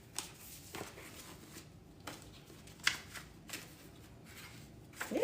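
Tarot cards being shuffled and handled at close range, a run of soft papery riffles and flicks broken by a few sharper snaps, with no talk.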